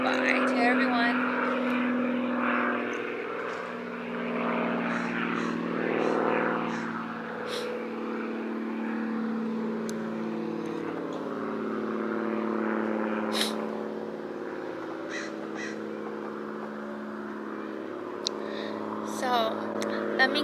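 A propeller airplane drones overhead, a low, continuous engine hum that swells and fades slightly over time while a person talks steadily over it.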